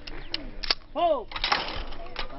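Shotgun blasts at clay targets sound as sharp, close cracks spread across a couple of seconds, with a short spoken call in between.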